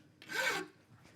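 One close rasping stroke of a big file across a metal bicycle frame part held in a vise, loud and alone, lasting under half a second.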